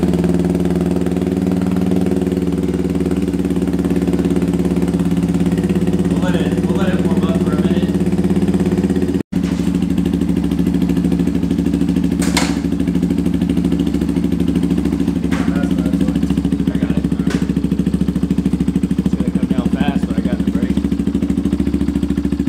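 A 2023 Benelli TNT 135 motorcycle with straight-piped exhaust idles loud and close, a steady throbbing drone running throughout, with a brief dropout near the middle and some talking faintly underneath.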